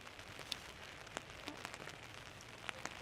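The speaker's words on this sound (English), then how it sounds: "this was probably some of the heaviest rain we had for sure" Heavy rain on a disc golf course, a faint steady patter of drops on surfaces with scattered sharper ticks from individual drops, quiet and distant-sounding with no talking.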